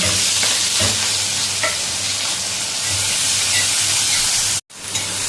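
Loud, continuous sizzling and hissing from a hot wok as chopped spring onion greens fry, with occasional stirring scrapes and a short gap near the end.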